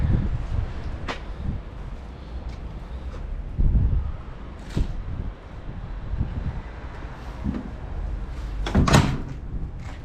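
Doors of a 2011 Renault Trafic 2.0 dCi long van are opened and shut outdoors, giving several sharp thumps and knocks spread over a few seconds, with wind rumble against the microphone in between.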